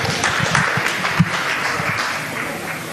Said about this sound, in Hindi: नमन करते हुए जोरदार तालियां एक बार भाई